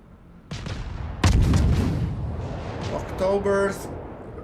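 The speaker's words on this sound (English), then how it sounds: "we just drop another fire volley on him" A naval gun volley from the USS Clemson destroyer in World of Warships: a sharp loud boom followed by a rumbling roll-off, with a voice talking partway through.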